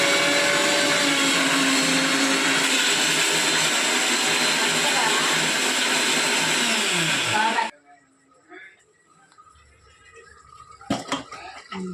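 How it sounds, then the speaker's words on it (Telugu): A kitchen mixer grinder blends ginger and garlic with a little water, a loud steady whirring motor roar for about seven and a half seconds that cuts off abruptly, followed by quiet clinks and handling noises. "దీనిలాగా మిక్సీ పట్టుకోవాలి."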